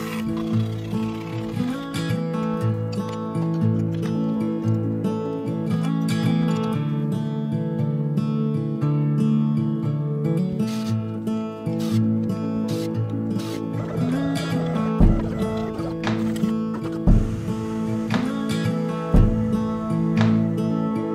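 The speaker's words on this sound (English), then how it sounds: "It will be really interesting to see how the machine will perform with such small milling bit." A DIY open-source CNC milling machine cuts with a tiny 1 mm single-flute bit, a sustained buzzing, tonal whine with steady motor hum and occasional sharp transients, loud and close without talk.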